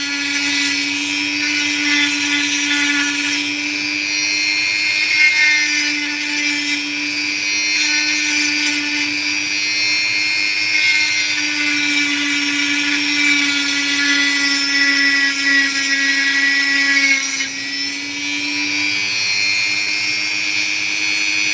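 A rotary carving tool grinds sand away from an opal, a steady high whine with a constant pitched hum running unbroken and close, briefly dipping once before continuing; no one speaks.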